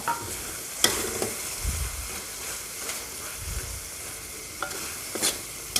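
Curry paste with torn kaffir lime leaves stir-frying in oil in a pan, a soft ongoing sizzle broken by several sharp spatula scrapes and taps, no talking.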